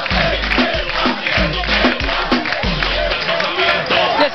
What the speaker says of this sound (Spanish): Un fuerte aplauso para Yesenia